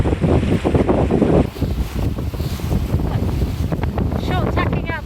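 A racing sailboat short tacking out of the Solent in gusty wind, with heavy wind buffeting the microphone, water rushing along the hull and faint creaks and rigging sounds near the end.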